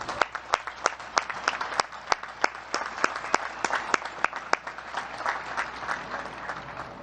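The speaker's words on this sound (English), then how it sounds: "Please join me again in recognizing and applauding these distinguished graduates." Audience at a Naval Academy graduation ceremony applauds distinguished graduates, with sharp individual claps standing out over a steady wash of clapping from a large crowd.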